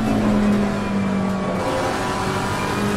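A race car in a sim racing game strains on corner exit as traction control keeps cutting in, giving a steady, loud engine drone with a pulsing, held-back tone.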